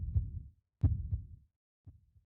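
A heartbeat sound effect plays as slow, muffled, low lub-dub thumps, three beats in steady rhythm. Each beat is soft and deep, with near silence between them.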